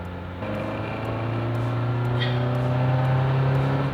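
A stock Toyota AE86 Corolla engine revs hard and holds a high, droning pitch that climbs slightly, loud and close, with no voices.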